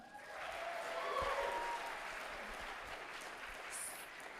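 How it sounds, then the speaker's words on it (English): Audience applause at a university Irish dance club showcase, a steady wash of clapping that swells slightly then holds, moderately loud, with a faint high whistle near the end. "Can we make a huge round of applause for our gorgeous blue team once again?"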